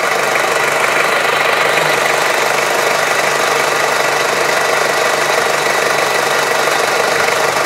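A Ford Ranger double cab's engine runs steadily with the hood open, a close, continuous rattly hum with a faint knocking texture and no pauses.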